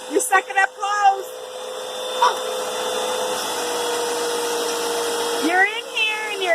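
A vacuum cleaner runs with a steady, loud whooshing drone while it sucks up clothes indoors. A voice rises over the hum at the start and again near the end.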